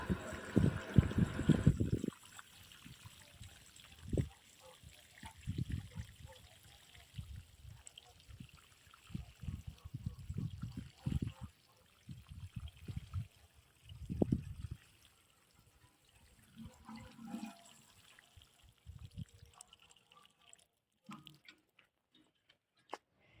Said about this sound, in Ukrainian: І тепер гарненько заливаю водою.